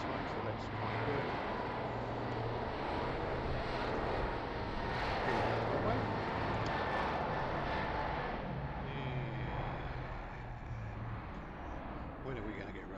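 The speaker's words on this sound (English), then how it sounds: "Boeing 777 heading towards, as I did say, San Francisco." A Boeing 777 bound for San Francisco builds its takeoff roll at Heathrow, its jet engines giving a steady, loud broadband roar that holds for the whole span and eases slightly near the end.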